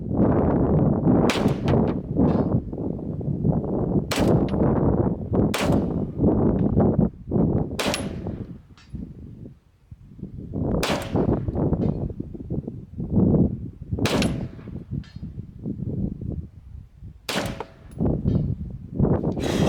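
Rifle shots fired at a steel chevron-style target, each sharp crack followed by a small metallic ding, repeating in irregular bursts across the stretch with steady outdoor noise between shots.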